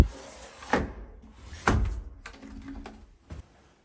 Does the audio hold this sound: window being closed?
yes